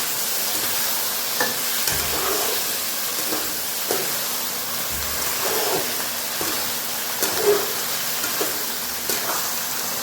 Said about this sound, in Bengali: পোস্তটা দিয়ে না বেশ খানিকক্ষণ আমি একটু কষাবো